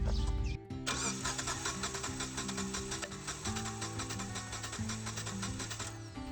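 An engine cranks over steadily on the starter during a compression test, a rhythmic chugging pulse that runs on for several seconds after a brief click at the start, close and clear with no talk.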